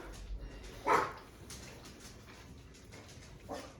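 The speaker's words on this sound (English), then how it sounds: "And then Monica's little dog's here too. And she's saying hello." Small dog giving a couple of short, faint barks indoors, one near the start and another a few seconds later, over quiet room noise.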